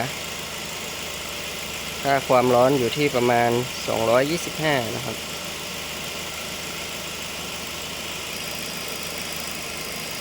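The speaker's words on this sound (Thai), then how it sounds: "ตอนนี้เดินเบานะครับ" A Ford Focus with roughly 93,905 km and a noisy air-conditioning compressor idles steadily, a low continuous engine hum running throughout while someone speaks briefly near the start.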